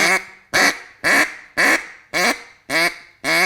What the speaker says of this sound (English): So you got the quack and the flat quack.